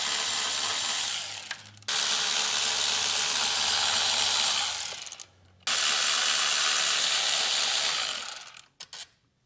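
A ratchet wrench spins out engine cover bolts on a Wheel Horse 520 LXI garden tractor with an FD620 engine, giving two long, fast, loud clicking runs up close, each stopping abruptly, followed by a few short bursts.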